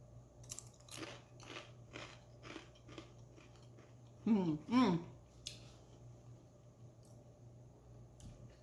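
Crisp, close crunches of someone biting into a homemade crunchy cheese chip and chewing, with a brief spoken voice in the middle over a quiet hum.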